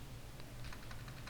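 Quick, light keystrokes on a computer keyboard while CSS code is typed, a short run of faint clicking taps.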